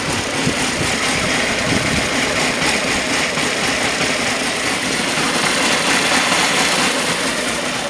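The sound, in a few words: motorcycle engine idling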